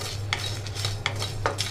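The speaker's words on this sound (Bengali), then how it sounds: "কড়াইতে আমি 5 ফোড়ন আর শুকনো লঙ্কা দিয়ে দিয়েছি। এটা আমি একটু নেড়ে নিচ্ছি।" Spoon or spatula stirring panch phoron and dried red chillies in a wok, a few scraping clinks of metal against the pan over a low steady hum, no talking.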